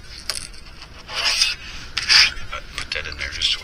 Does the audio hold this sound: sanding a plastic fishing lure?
yes